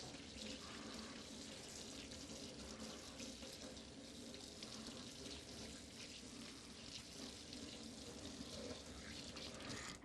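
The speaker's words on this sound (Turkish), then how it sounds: "Hemen şöyle ben bir elimi yıkayayım." Hands being washed under a running kitchen tap while making spinach pasta, a steady hiss of flowing water with faint splashing and rubbing, fairly quiet and continuous.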